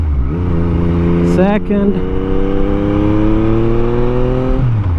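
Yamaha MT-09 SP motorcycle with a flashed ECU accelerating under steady, progressive throttle, its engine note climbing smoothly in pitch through a gear, then dropping near the end, loud and close with a brief spoken word over it.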